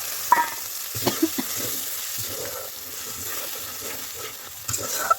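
Spices sizzle loudly in a pan as water is added to them while rice boils, with a few clinks of stirring over a steady frying hiss.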